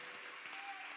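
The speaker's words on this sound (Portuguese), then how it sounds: "Aplauda Ele nessa manhã, porque Ele vive." A church congregation applauds during an Easter morning service, a soft, steady patter of many hands heard at a distance, fairly quiet and continuous without a break.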